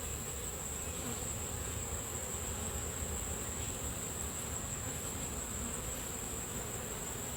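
Constant droning buzz of a swarm of honeybees at a nucleus hive, even and unbroken throughout, fairly quiet with no voices.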